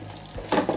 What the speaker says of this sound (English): You want to use warm to hot water.